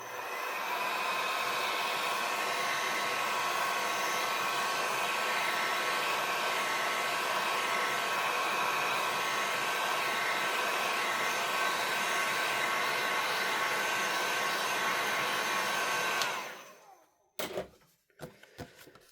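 A heat tool blows a constant loud, close whirring roar for about sixteen seconds while drying paint on a handmade card, then cuts off, followed by a few handling knocks and clicks.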